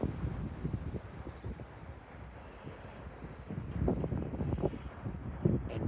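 Wind gusting across an outdoor microphone beside a parked Audi S5, a steady broadband rumble and buffeting that swells louder toward the end, with no talking.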